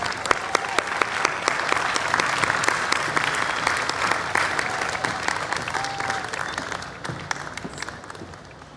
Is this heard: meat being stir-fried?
no